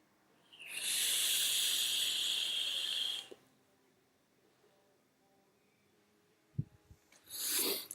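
A long, breathy exhale of vape vapour from the Aftermath e-liquid hisses steadily for about two seconds, then quiet with a few soft clicks, before a second shorter puff of breath near the end.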